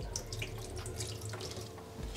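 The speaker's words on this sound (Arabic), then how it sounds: "شوي شوي مندخ عليه المي هيك كي يطمئن" Lukewarm water is poured slowly over a cat during its first bath, a soft, steady trickle and splash like a running tap into a basin, close and gentle, with no voices.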